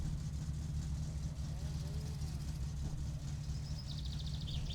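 A car engine idles steadily in the video game My Summer Car, a continuous low hum that stays close and even throughout, with faint higher mechanical whines near the end.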